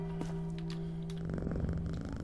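A cat purring inside a video game, a steady low rumbling purr with faint tonal hum behind it, growing slightly louder and fuller toward the end, alone without talk.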